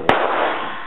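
A single sharp, loud rifle shot from an AK-type carbine fitted with a Grand Power muzzle compensator, outdoors, with a brief ringing decay after the crack.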